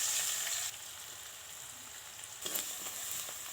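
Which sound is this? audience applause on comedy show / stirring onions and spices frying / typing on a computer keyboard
stirring onions and spices frying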